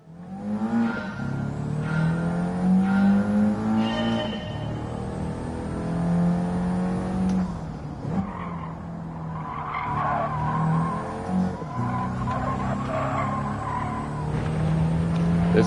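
A Toyota Celica races around Suzuka in GT7, its engine droning loud and steady with harmonic revs that climb and drop through the gears, brief tire skids along the way, and a faint voice now and then.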